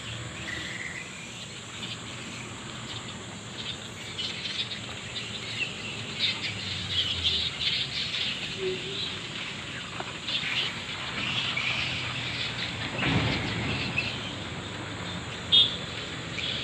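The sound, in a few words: birds calling in a tree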